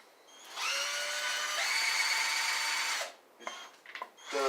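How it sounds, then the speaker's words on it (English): Handheld power drill spinning a kayak trolling propeller attached directly to it, a steady high whine running for about two and a half seconds, then stopping, followed by a few short bursts of rattling and handling noise. "The prop itself connects directly to the drill, and this thing here can turn freely."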